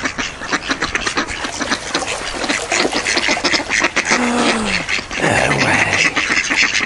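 Many ducks quack close by outdoors, their calls overlapping densely with splashing and rustling, while a voice briefly exclaims.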